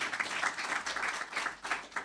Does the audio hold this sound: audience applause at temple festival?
yes